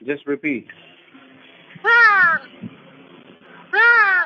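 A person's voice imitates a cat's meow twice, two drawn-out, wavering mews separated by a pause, with brief speech at the start.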